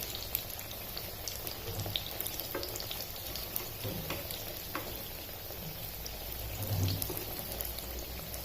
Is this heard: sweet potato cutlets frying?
yes